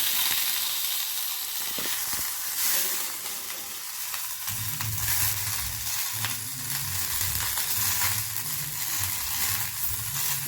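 Curry leaves frying in a hot pan for a curry-leaf garlic kuzhambu give a steady close sizzle, with stirring scrapes and bursts of crackle running the whole time.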